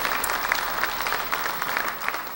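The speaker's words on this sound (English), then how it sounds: "Give them a round of applause" A crowd at a university faculty convocation applauds committee members, brisk overlapping claps that stay moderately loud and even for a couple of seconds.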